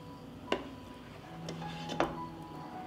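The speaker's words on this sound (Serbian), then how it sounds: "Promešat ću" A spoon stirring lemon juice and sugar in a metal pot, giving a few scattered clinks and scrapes at moderate loudness against a quiet background.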